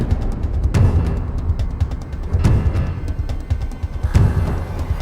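An ojek motorcycle with a racing exhaust runs close by with a loud, throaty, rumbling engine note, swelling in three bursts of revving over a continuous idle.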